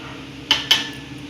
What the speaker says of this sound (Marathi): आता हे सगळे मसाले मी एकत्र करते